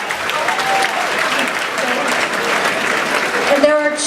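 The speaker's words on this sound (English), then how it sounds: "let's have a round of applause for those who are not here tonight" An audience at an evening gathering applauds steadily, a dense, even clatter of many hands that stays loud throughout, with a voice speaking over it near the end.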